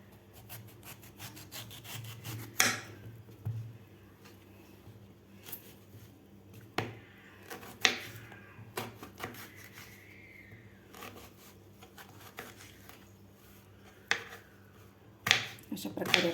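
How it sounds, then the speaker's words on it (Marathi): A knife slices through a peeled raw green mango in a home kitchen, giving scattered crisp cuts and scraping strokes at close range, with quiet background noise between them. "आता आपल्याला हे कैरी कापून घ्यायची आहे."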